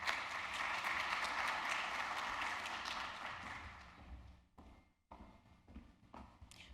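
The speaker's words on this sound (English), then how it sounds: "Please give him another round of applause." Audience applause at an honors college induction and recognition ceremony, a broad wash of clapping that holds steady for about four seconds, then fades out, leaving a few faint scattered taps and room noise.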